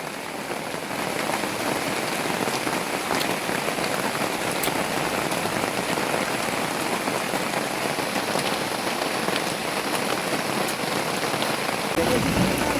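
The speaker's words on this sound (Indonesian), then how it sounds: "Hujannya sangat deras." Heavy rain pours steadily outside a jungle camp in the Kalimantan interior, a dense, continuous hiss of drops hammering surfaces at close range with no break, loud and alone without voices.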